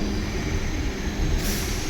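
MRTS suburban train pulling away from Velachery railway station in Chennai, a steady low rumble of the rail car with continuous rolling noise and a faint hiss near the end, heard from on board with no talking.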